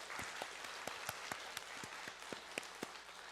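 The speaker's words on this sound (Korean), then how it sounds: "우리 한 번 더 주님에게 영광의 박수 올려드렸으면 좋겠습니다" A small church congregation at a Wednesday service claps for the Lord, with sparse, distinct claps standing out individually in a soft, quiet room.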